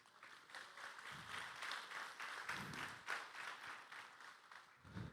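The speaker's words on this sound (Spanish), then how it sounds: "Dale un aplauso a Cristo." Church congregation clapping during a sermon, a dense, continuous round of applause with faint voices mixed in.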